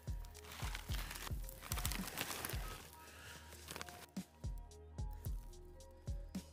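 A flail-type bale processor tears through a bale of dry third-cutting alfalfa, a steady crunching, rustling roar punctuated by regular heavy thumps that start rapid and then slow to a looser beat.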